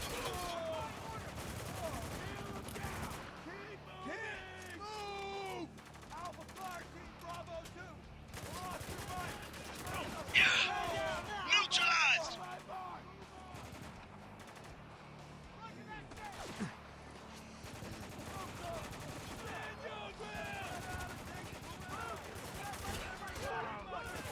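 Gunfire in the military shooter Spec Ops The Line: sustained bursts of automatic and shotgun fire through a firefight, with a louder flurry near the middle, under shouted squad callouts and game voices.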